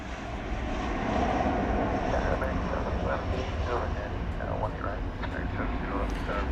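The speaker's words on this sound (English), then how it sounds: "Flight 789 is coming in from Austin, Texas, an Airbus A319." An Airbus A319 airliner passes at DFW airport, its engine roar broad and steady at moderate distance, holding level throughout with faint background noise.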